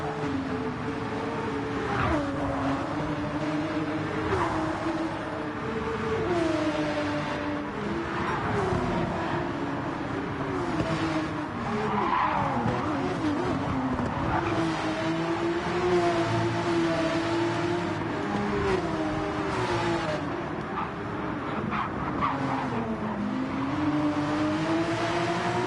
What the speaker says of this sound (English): Porsche Cup style. 911's out on track today